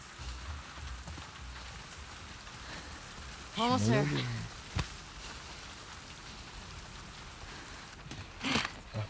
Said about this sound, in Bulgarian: Бате, виж го дъжда, бе, виж как.